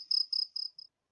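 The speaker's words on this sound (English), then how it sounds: "there's less crickets" Crickets chirp at night in four short, evenly spaced high-pitched trills, the last one weaker, followed by silence.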